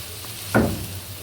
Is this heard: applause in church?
no